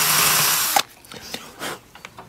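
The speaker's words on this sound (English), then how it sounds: "using a nice masonry bit, small enough, we'll just drill a small little hole in here" Power drill with a small masonry bit boring a hole, a loud steady whine for under a second that stops abruptly, followed by quieter knocks and scrapes.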